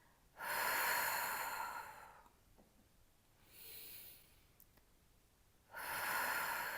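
Three deep, audible breaths during a Pilates exercise for the deep abdominal muscles: long airy rushes, loud and close, separated by quiet pauses, with the middle breath softer.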